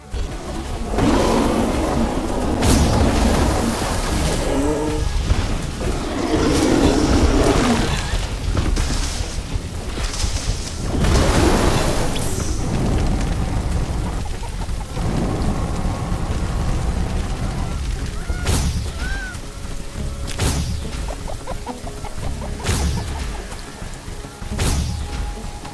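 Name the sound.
intense hailstorm in the video game The Riftbreaker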